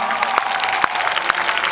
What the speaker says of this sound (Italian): un applauso per Raffaele Gualazzi